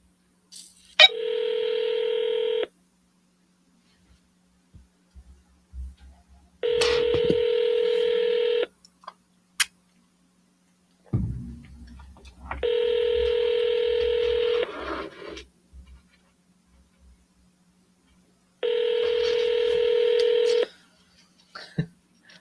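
Four bursts of touch-tone dialing on a landline telephone, each a rapid run of DTMF beeps lasting a couple of seconds, separated by quiet gaps with faint handling noise.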